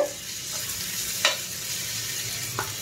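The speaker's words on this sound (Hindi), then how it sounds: "এই চিকেনটা এবারে আমি একটা একটা করে দিয়ে এটা ফ্রাই করে নেব" Chicken pieces for an egg chicken roll fry in a pan with a steady soft sizzle, broken by a couple of brief clinks or stirring scrapes near the start, middle and end.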